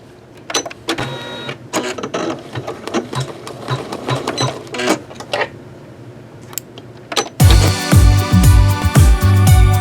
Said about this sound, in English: now that I have this loaded up, let's start to embroider